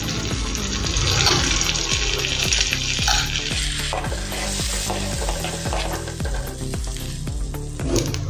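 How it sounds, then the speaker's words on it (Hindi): Cumin seeds sizzling in hot oil in a pan for dal makhani, a loud continuous frying hiss with rhythmic scraping and stirring strokes, no talking. "अभी इसमें हम जीरा डालेंगे।"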